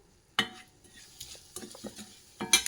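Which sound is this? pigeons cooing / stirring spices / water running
stirring spices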